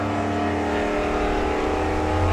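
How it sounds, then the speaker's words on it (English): A drag racing car at Bug Jam easing off the throttle after launch, its loud steady engine note holding then beginning to fall as it coasts, close and without talk. "Now you hear he's off the gas."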